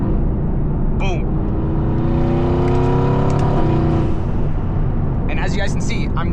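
A Mercedes-AMG GT S engine rumbles and revs as it downshifts through gears, a loud, steady drone whose pitch rises and settles, with someone talking over it.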